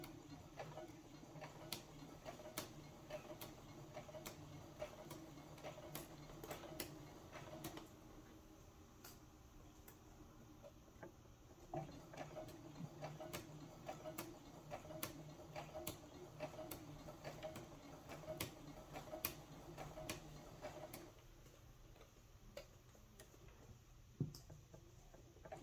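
Sewing machine stitching a vest with facings and bias tape, a quiet rapid ticking of the needle in steady bursts with brief pauses and a change in rhythm for backstitching, close and faint with no talking.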